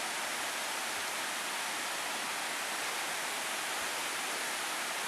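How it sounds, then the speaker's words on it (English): Apple Orchard Falls, an Appalachian waterfall, heard as a steady, even broadband rush of falling water, constant and moderately loud, with no voices or other sounds over it. "And then there's the falls."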